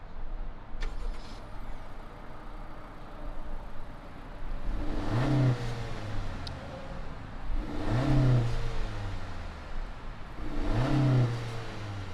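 A 2019 Honda Accord Sport with a turbocharged 1.5-liter engine idling after starting, then revved three times, each rev a rising then falling swell over a low steady idle, heard nearby with no talking.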